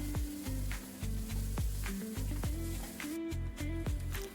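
A spoon beats egg batter with pepper and garam masala in a bowl, rhythmic knocks and scrapes repeating roughly every half second, close and clear with no talk.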